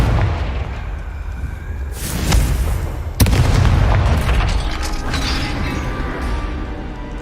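A Confringo blasting spell goes off in the Hogwarts Legacy video game, a loud booming burst with a sharp crack partway through, then rumbling, creaking debris that keeps rolling along.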